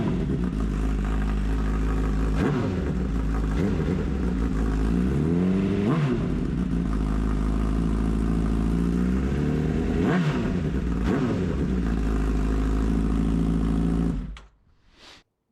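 A loud Honda CBR1000RR FireBlade motorcycle engine idles heavily, then revs up sharply several times in separate bursts before cutting off abruptly near the end.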